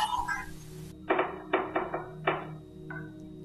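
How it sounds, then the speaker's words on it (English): Knocking on a door at a haunted old house, Bellaghy Bawn: several separate sharp knocks in an uneven rhythm, fairly close and clear over a quiet background. "Sounds like somebody knocking on the door."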